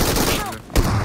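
Shotgun fire in a video game, a rapid loud burst of blasts over a continuous roar of game noise, with a louder shot toward the end.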